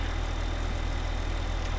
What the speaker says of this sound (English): Oh, come on, tractor. You can pull.